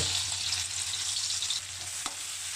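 Pounded shrimp paste mixture frying in pork lard in a wok over medium heat, a steady close sizzle with faint stirring scrapes and a brief clink near the end, no speech.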